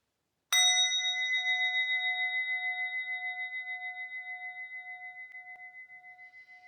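A single memorial bell struck once in a remembrance ceremony, ringing out with a clear bright tone and sustaining a long, slowly pulsing decay in otherwise quiet surroundings.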